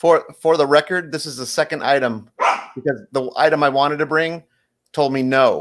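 A pet dog barks a few times during continuous talk on a talk show, the yaps close by and brief between stretches of conversation.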